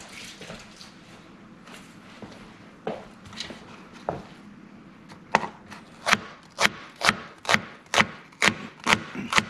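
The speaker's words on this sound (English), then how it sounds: "Then we're gonna slice also the onion." Knife slicing an onion on a board, scattered soft cuts at first, then a quickening run of crisp, evenly spaced chops close up, with no talk over them.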